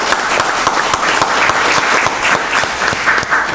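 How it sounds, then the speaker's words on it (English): Audience at a county board of commissioners meeting gives a round of applause, a dense steady clapping that fills the room for several seconds at fairly loud level. "Let's give Director Hammer a round of applause."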